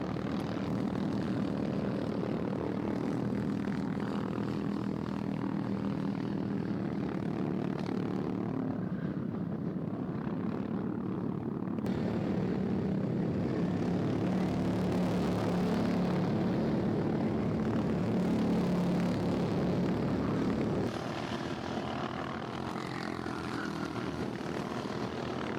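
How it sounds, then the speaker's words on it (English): Racing karts in a sprint race buzz with high, droning engines that swell and fade as they pass side by side, a constant, fairly distant hum with no break for the full stretch. "Here we come, side by side, the two karts."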